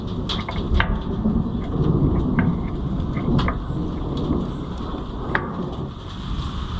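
Heavy rain pours steadily while low thunder rumbles through a storm, with a few sharp crackles standing out now and then.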